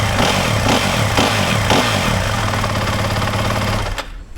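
Yamaha WR250F or WR450F enduro motorcycle engine on a very wet day in Wales, a loud steady running rumble with rhythmic pulsing that cuts out abruptly near the end.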